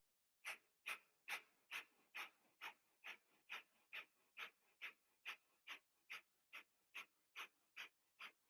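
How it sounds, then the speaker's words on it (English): Breath of fire yoga breathing: fast, forceful nasal exhalations, about twenty even puffs in steady rhythm, close and fairly soft, with no talk. "Breath of fire, round 3."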